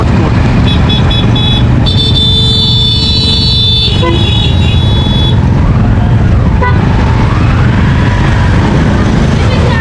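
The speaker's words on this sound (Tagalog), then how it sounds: "Marami tayo ng traffic." Busy, congested road traffic fills the scene with loud, continuous engine rumble close by, broken by several sharp car horn toots near the start and middle.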